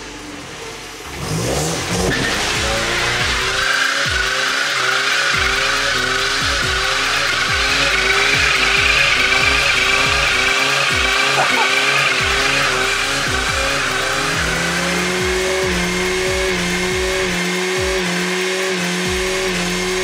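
A car spins one tire with a loud, sustained squeal over a hard-revving engine whose pitch climbs and wavers for the whole stretch, close and constant, with no talking.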